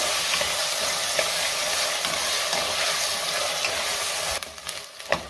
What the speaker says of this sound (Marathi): त्यातच आपल्याला टोमॅटो सुद्धा घालायचा आहे आणि आता ही भाजी आपण चांगली 1 मिनिटभर परतून घेऊया